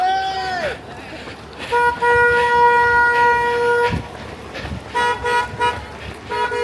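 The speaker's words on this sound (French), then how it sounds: "on a les supporters qui klaxonnent" Car horns honk repeatedly in long sustained blasts and shorter toots, loud and nearby, with a voice and crowd noise underneath, as supporters cheer at a 31 km trail race in Savenay, France.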